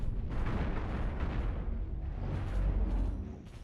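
Ship weapons firing in the space game Cosmoteer, a dense, continuous rumble of booming shots and explosions that stays loud throughout and fades slightly at the end.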